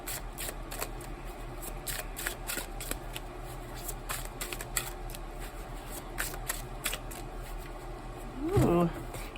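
A new, slippery deck of cards being shuffled, giving repeated quick riffling bursts and soft flicks spread across the clip, close and moderately quiet, ending with a louder rustle.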